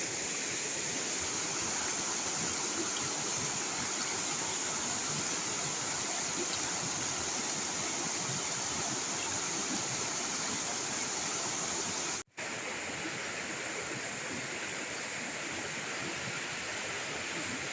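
A swollen, fast-flowing stream rushing in a continuous broadband roar, steady and fairly distant, with one brief dropout partway through and no talking.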